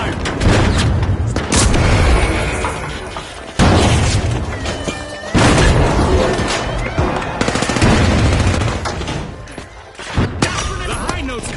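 Rocket blasts and heavy gunfire in the shooter game The Finals, with dense, repeated booming explosions and crackling fire running almost continuously, loud and close.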